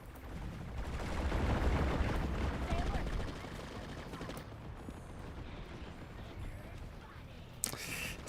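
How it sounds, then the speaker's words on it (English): Game gunfire in Planetside 2 rattles in a dense, distant-sounding stream that swells and fades amid background battle noise, with a sharp pop near the end. "Gotta get used to shooting in this game."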